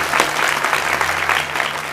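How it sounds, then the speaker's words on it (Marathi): An audience at a large gathering in Nandgaon Peth breaks into loud, continuous applause, many hands clapping at once for nearly two seconds with no talking heard. "टाळ्या वाजवा नांदगाववाल्याच्या."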